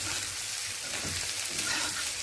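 Dried fish, garlic, onion and dried chilli fry in hot oil for a steady, close sizzle with faint stirring, no voices.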